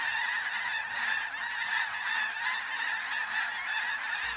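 A flock of geese honks continuously during a goose hunt in Alberta, many overlapping calls layered at moderate distance with no talking.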